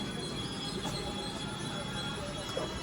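A Santragachi–Tirupati weekly superfast express train slows to a halt, its wheels squealing steadily against the rails under a constant, close rumble of the moving train.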